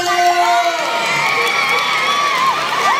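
An audience at a gay beauty pageant in Cabanatuan City cheers loudly with whoops and high shouts, a continuous excited crowd roar with voices rising and falling throughout.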